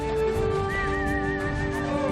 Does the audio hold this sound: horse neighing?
yes